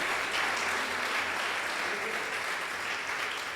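A church congregation gives a long, steady round of applause, dense clapping from many hands filling the room evenly without pause.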